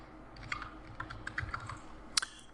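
A short burst of keypresses on a computer keyboard while entering an OTP, a quick irregular run of light clicks close up, with a sharper final tap like Enter, no talk.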